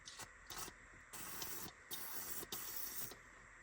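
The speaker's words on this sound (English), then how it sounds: "spray PB Blaster in here" PB Blaster penetrating oil is sprayed onto a brake line fitting on a Porsche 944, four or five short, close hissing bursts from an aerosol can with brief pauses between them.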